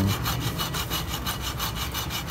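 A hand saw cuts through wood in quick, even back-and-forth strokes, about four per second, loud and close with no talking.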